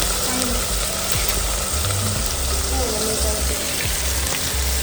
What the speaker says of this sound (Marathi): पॉपलेट फ्राय व्हायला लागले.